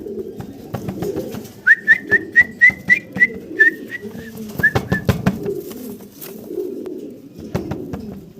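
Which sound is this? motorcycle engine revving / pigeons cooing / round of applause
pigeons cooing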